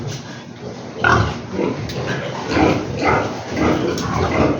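A pig on a farm grunts and snorts in several loud, close, rough bursts while it is being measured with a tape measure. The bursts sit over steady background noise, with no clear speech.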